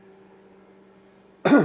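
A man gives a single short, rough cough and throat-clear at the very end, loud and close after a near-silent stretch with a faint low hum.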